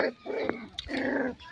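Two puppies scuffle at play-fight, giving short, close, low growls and grumbles in quick bursts with brief pauses.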